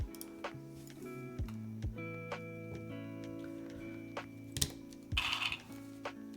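Pudding keycaps pressed onto a Keycult mechanical keyboard, heard as scattered close clicks and taps with a brief rattling burst near the end, quiet and with no voices.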